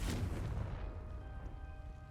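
A Confringo blasting spell explodes in a Hogwarts video game, a loud booming burst that rumbles and fades over about two seconds, with no talking over it.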